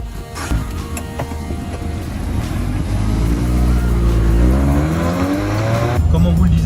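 Modified Mazda MX-5 ND driven hard, its engine climbing loudly through rising revs with tire squeal and road noise, a voice talking faintly underneath.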